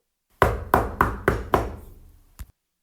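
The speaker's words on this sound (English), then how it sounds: "then a rapping at the door" Rapping on a flat's door: five sharp, evenly spaced knocks close by, each with a short ringing tail, followed after a pause by a single fainter knock.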